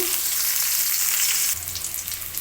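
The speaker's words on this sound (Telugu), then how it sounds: "మీడియం సైజ్ ఆనియన్ ముక్కల్ని ఒక ఆయిల్లో వేసుకున్న తర్వాత ఇవి కూడా బ్రౌన్ కలర్లో వేగేంత వరకు దోరగా వేయించుకోవాలి" Medium-sized onion pieces frying in hot oil in a kadai, a steady loud sizzle that crackles on without pause and swells slightly brighter and busier near the end.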